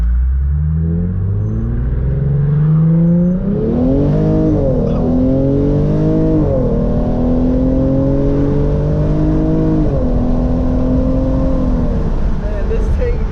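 A tuned Hyundai Genesis Coupe 3.8 accelerating hard in first gear with traction control off, a loud close engine note climbing in pitch through long pulls, with voices talking over it.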